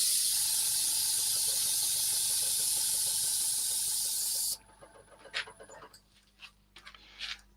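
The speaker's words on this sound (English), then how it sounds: "I'm pointing the gun towards this side of the bowl. That's because the stain is going straight off the side" Airbrush spray gun sending wood stain onto the side of a bowl, a loud steady hiss up close that stops abruptly partway, leaving a quieter space with a few faint clicks and knocks.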